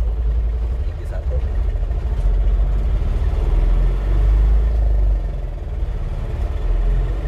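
A diesel Bajaj auto-rickshaw engine runs at full throttle in first gear, giving a loud, steady, close-up low rumble that drones on without a break.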